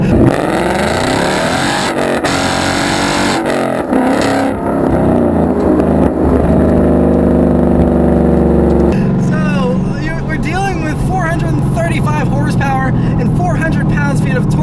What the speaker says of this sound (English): And that exhaust just, it sounds so good!